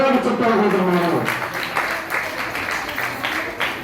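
Audience clapping at a women and child development association's fifth anniversary event, a steady crowd of hands that swells loud early on over a voice, then carries on dense and even to the end.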